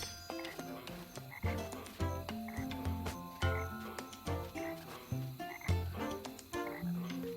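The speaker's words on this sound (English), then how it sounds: "Swamps are kind of moody at night. Check out those singing frogs." Frogs in a nighttime swamp in the game The Plucky Squire croak steadily in rhythmic, overlapping pulses, layered over tuneful game music with no talking.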